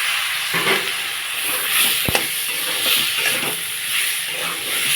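Cut potatoes frying in a hot spice masala for a crab and ridge gourd curry, giving a loud, continuous close sizzle and hiss with faint stirring scrapes and one brief knock partway through, with no voices.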